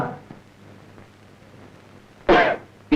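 A sudden loud cough bursts out near the end after a quiet stretch, followed by a short second cough cut off.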